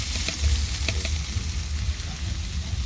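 Aromatics (ricado) sauté for a spaghetti sauce with a steady, close sizzle and a low rumble underneath, while occasional light stirring taps break through.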